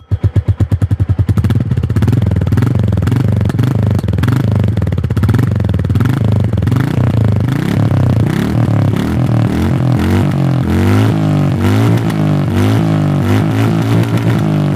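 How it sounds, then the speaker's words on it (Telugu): Royal Enfield Classic 350 motorcycle, 2024 BS7-OBD2 model, starting up then settling into a loud, steady, thumping single-cylinder exhaust note with rhythmic pulses and a few blips of revving, close by with no talk. "దీని యొక్క ఎగ్జాస్ట్ నోట్ ఒకసారి మీకు వినిపిస్తాను"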